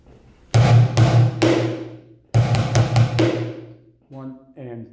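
Bucket drumming pattern fourteen on a plastic bucket, loud booming strikes in two bursts of quick hits with ringing decay, ending with a short tonal voice-like tail; no talking.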